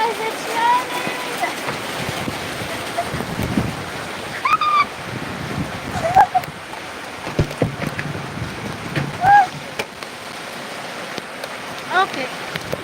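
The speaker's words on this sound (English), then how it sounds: "Guys, it's raining." Rain falls as a steady wash of hiss, with voices and a few chirping squeaks heard over it.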